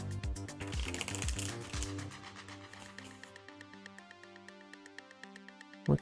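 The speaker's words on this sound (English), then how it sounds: "I think 1 or 2 more shuffles should be fine." A deck of tarot cards is shuffled by hand, a quick run of crisp riffling flutters and taps up close, then softer settling clicks and a final sharp knock as the deck is squared.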